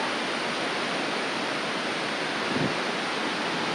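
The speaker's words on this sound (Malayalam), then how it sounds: "ഇതിന് മുകളിലും ഒരു ചെറിയ വെള്ളച്ചാട്ടമൊക്കെ ഉണ്ട്" A waterfall roars in a steady, dense rush of broadband water noise that holds at an even level without a break.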